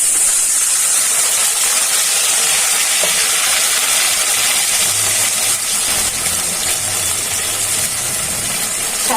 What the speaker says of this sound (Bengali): মশলাটা যাতে পুড়ে না যায় হালকা একটু ঝোল দিয়ে